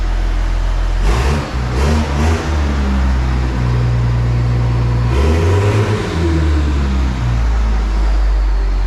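A car engine with a noisy transmission runs loud and steady nearby, revving up twice early and again around the midpoint, then settling back to a droning idle.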